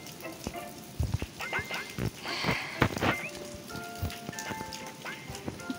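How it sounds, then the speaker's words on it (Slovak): Rain patters on a hard surface outdoors on a farm in Slovakia, with scattered loud drips and taps close by, while faint animal noises sound in the background. "Prší tunák."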